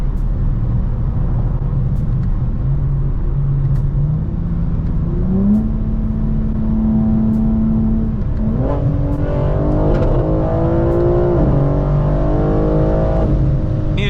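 A Toyota Supra Mk4 on the road accelerates hard, its engine note climbing steadily through a long loud pull with a rising harmonic whine, close and unbroken with no talk.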